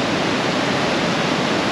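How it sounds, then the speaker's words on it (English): Water pours heavily down a waterfall at Rock Island State Park, a dense, steady roar heard close and loud, unbroken for its short length with no other sounds over it. "then there's a beautiful waterfall. And it is really flowing today."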